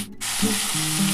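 Onion and bitter gourd fry in a pan, giving a steady, close, fairly loud sizzle with faint low clinks and scrapes underneath, and no talking.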